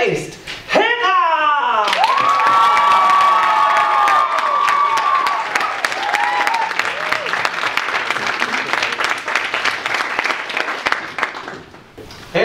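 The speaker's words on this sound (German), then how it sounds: "Einen großen Applaus." A crowd bursts into loud, sustained applause with cheering, while a voice rises over it early on; the clapping continues densely before fading near the end.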